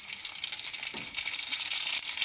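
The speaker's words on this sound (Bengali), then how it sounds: "আপনাদেরকে ফুচকা ভাজা দেখাবো।" Puffed fuchka shells sizzle in a pan of hot oil, a loud, steady crackling hiss close by with soft bubbling texture and no voices.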